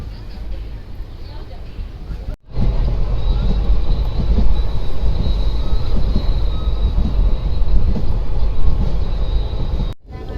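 A passenger train runs on the railway as it enters Jetalsar station, a steady loud rumble and rattle of wheels with brief dropouts, heard from on board.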